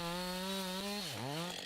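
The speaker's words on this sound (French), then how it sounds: "Le deuxième trait de scie est horizontal et rencontre parfaitement le premier." A chainsaw engine roars steadily while making a horizontal notch cut in a tree trunk during tree felling, its pitch sagging briefly under load before recovering.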